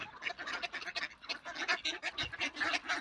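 Ducks quack repeatedly in a park, several birds calling close by in a lively, overlapping chorus with no talking.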